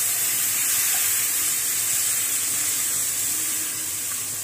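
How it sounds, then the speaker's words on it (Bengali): Water is added to a pan of spice mix (chili, coriander and cumin powder) while it cooks, giving a steady, fairly loud hiss and sizzle with a broad spray-like wash that runs unbroken throughout, with no talking. "তো মশলাটা কষানোর জন্য একটু পানি দিয়ে দিলাম।"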